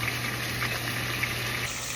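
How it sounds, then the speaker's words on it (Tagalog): Water pours into a pot of tinola, a Filipino chicken soup, making a continuous bubbling rush over a low steady hum. "Pwede natin yung lagyan ng tubig."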